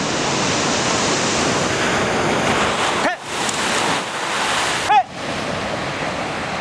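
Ocean waves crash steadily onto the shore in a loud, continuous roar of surf, with two brief dips where the wash pulls back before the next breaker rolls in.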